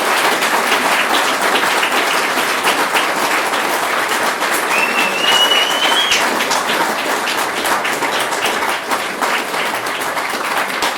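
Sustained audience applause fills a museum hall after a speaker series talk about an ice man from British Columbia, many hands clapping steadily and loudly without pause.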